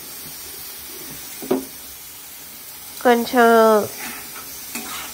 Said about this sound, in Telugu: రెడీగా పెట్టుకున్న ప్రాన్స్ తెచ్చి ఇందులో వేసుకొని బాగా కలుపుకోవాలండి.